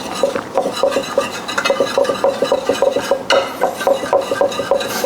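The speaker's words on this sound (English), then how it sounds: "Then mix it together." Seasoned flour coating for buffalo wings being mixed in a bowl, with a steady, rhythmic scraping and light clinking of a utensil against the container, fairly close and continuous with no talking.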